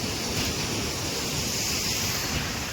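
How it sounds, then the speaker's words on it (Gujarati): Steady, dense rushing water fills the whole clip, a broad continuous roar like a waterfall heard from nearby, with no voices. "સરસ મજાનો ધોધ છે અહીં"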